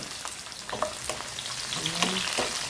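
Garlic, onion and tomato sauté in a hot pan for beef adobo with a steady loud sizzle, broken by scraping stirs and clinks of the utensil against the pan.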